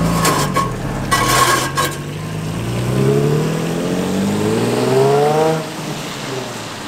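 An Infiniti G35 engine drones and rises in pitch as it accelerates while driving, a smooth, lower exhaust note heard up close after a few clinking sounds.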